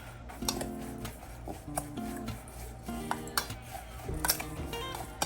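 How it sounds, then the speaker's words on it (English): A spoon scrapes and clinks repeatedly against a bowl while stirring a cinnamon mixture, a series of irregular close taps and scrapes with no voices. "Now give this a little stir."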